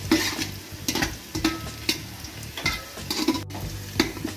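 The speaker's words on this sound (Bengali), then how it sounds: "আমি গোটা গরম মশলা নিয়েছি, এটা দিয়ে দেব। তেজপাতা 2টো দিয়ে দেব।" Whole garam masala and two bay leaves sizzling in hot oil for a rice-and-lentil khichuri, a steady close crackling fry with scattered sharper pops and occasional stirring scrapes, no talk.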